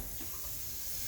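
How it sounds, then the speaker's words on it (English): A little water poured into a pot of Jamaican lamb stew makes a brief, quiet hissing splash that stays fairly faint from start to finish. "A little bit of water in there."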